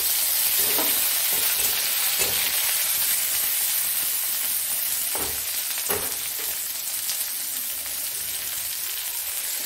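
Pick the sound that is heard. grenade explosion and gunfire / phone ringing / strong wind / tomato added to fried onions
tomato added to fried onions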